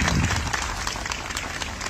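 A festival audience at an outdoor memorial ceremony claps in a steady, dense wash of applause that fills the whole moment without a break.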